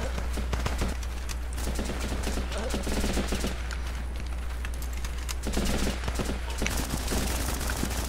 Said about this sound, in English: And I just got shot up with a stray bullet.